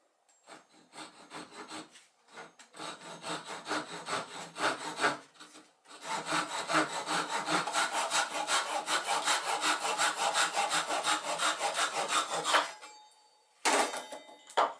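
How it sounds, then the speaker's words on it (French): A Japanese hand saw cuts through a wooden board in fast, even back-and-forth strokes, close and loud, starting in short bursts before settling into a long continuous run. "Donc j'ai ma scie japonaise."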